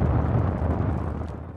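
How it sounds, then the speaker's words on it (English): Booming explosions in a Star Wars village scene in the Disney Infinity 3.0 video game, a dense, loud rumbling burst that fills the short moment and slowly fades. "Look at all the explosions in the village."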